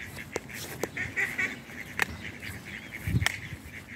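Wild ducks of one family give sharp honking quacks, a few scattered calls over light background noise with a low thump near the end.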